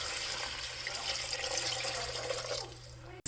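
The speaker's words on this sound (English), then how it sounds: "Okay, now I'm going to add 4 cups of water." Water pours steadily into a pot of broccoli cheese soup on a stove, a continuous splashing rush lasting about three seconds before stopping abruptly.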